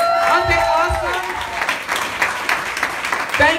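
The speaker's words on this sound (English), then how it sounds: "I want to give all my peoples a round of applause" Applause from the guests at someone's birthday and holiday bash, steady and fairly loud throughout, with cheering voices and a whoop layered over it near the start.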